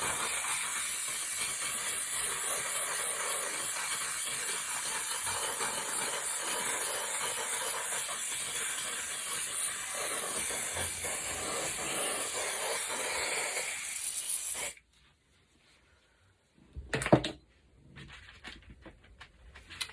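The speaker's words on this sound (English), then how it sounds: "So you're just gonna spray your silicone spray, not like a whole lot" Silicone mold release spray is sprayed from a can in one continuous hissing burst for about fifteen seconds, then it stops, followed by a short quiet gap and a few faint handling noises.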